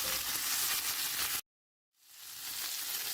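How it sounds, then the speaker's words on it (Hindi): Boiled potatoes frying in oil with mustard seeds, a loud dense crackling sizzle that cuts out abruptly for about half a second, then fades back in steadily, close up with no talking. "आलू को 3 से 4 मिनट फ्राई करूँगी मैं।"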